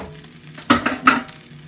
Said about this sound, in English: I'm also going to go ahead and add the kimchi and pork to the pan to get those nice and crispy